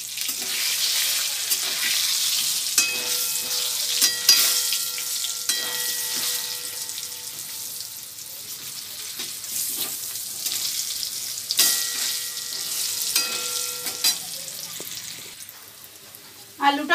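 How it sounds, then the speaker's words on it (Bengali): Potato pieces frying in hot oil with Kashmiri chili powder, a dense continuous sizzle with occasional stirring clatter and faint voice in the background, close and steady throughout. "আলুটা ভাজা হয়ে গেছে, এবার আলুটাকে তুলে নেব।"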